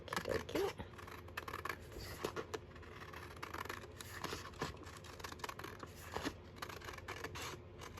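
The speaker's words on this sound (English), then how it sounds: "I realise this is pretty tedious watching me cut out the circles" Scissors snipping around paper circles for handmade journal pockets: close, quiet, irregular crisp snips and scraping paper rustles, alone, with brief sharper clicks scattered throughout.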